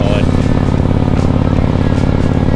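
A motorcycle cruising at about 80 km/h, a loud steady engine drone with wind rush close to the mic.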